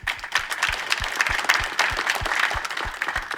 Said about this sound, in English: please give a warm applause to Mr. Jacob Heinsen